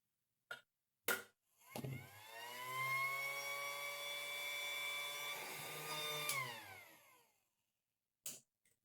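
A battery-powered swimming pool pump starts with a couple of clicks, spins up into a steady, whining electric motor hum for about five seconds, then winds down, nearby and without talk.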